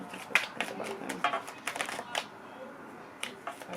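Tarot cards being shuffled by hand, a run of quick papery riffles and soft slaps in an irregular rhythm, close and moderately quiet, with no talking.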